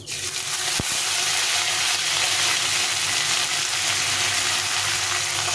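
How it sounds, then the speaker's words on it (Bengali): Soaked Gobindobhog rice frying in a pan gives a steady, close sizzle that runs unbroken through the whole stretch, with a brief thump near the start. "চালটা কিছু ভেজে নেবো"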